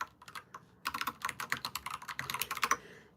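Rapid keystrokes clatter on a computer keyboard in a quiet room, an irregular burst of crisp clicks that starts sparse and grows into a busier run of typing, with no voices.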